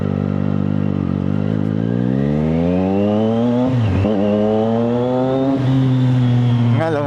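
A Triumph motorcycle being test ridden, either a Daytona 660 or a Trident 800, revs loudly and close throughout, its engine note climbing through the gears with dips at shifts. A voice is faintly heard under the engine.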